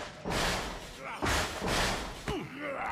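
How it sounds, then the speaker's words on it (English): Door knocking in the video game The Evil Within 2: a few loud, dull thumps spaced roughly half a second to a second apart, with some game sound and faint voice-like tones between the blows. "Stop knocking now."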